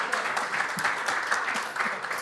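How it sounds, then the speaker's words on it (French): Men in a church congregation clap together in a short burst of brisk, even applause that fills the hall from start to finish. "C'est là que les hommes devraient applaudir."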